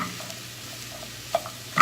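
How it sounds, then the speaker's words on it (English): Carrots and onions fry in a pan with a faint, steady low sizzle, broken by a couple of short clinks of stirring near the end. "let everything fry so that it softens up"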